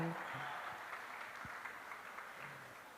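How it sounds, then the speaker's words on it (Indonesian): Audience applause at a fashion runway event in a hall, a steady wash of clapping with a faint voice or two underneath, moderately quiet and continuous. "Saya akan undang dan berikan tepuk tangan yang meriah."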